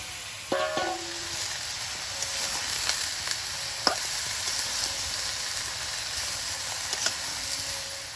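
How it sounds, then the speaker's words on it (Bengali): Shrimp fry in a pan for a Bengali pui shak curry, a steady soft sizzle with a few sharp clinks and stirring knocks near the start and scattered throughout. "চিংড়ি মাছটা দিয়ে এক মিনিট ভাজবো"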